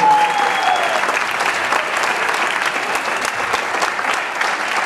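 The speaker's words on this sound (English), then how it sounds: "how about another round of applause for all our filmmakers?" An audience at a film festival screening Q&A gives the filmmakers a round of applause, steady and full-bodied clapping from a crowded room that carries evenly throughout.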